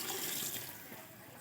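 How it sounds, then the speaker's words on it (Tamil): Water is poured into a pot of chicken biryani, giving a brief, soft splashing and gurgling pour heard close but quiet. "இப்போது தேவையான அளவுக்கு தண்ணி விட்டுக்கலாம்."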